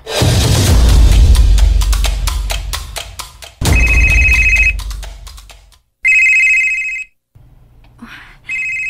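A telephone rings with an incoming call, its electronic ringtone repeating in bursts after a loud, crashing dramatic musical sting at the start, in a Cebuano drama scene.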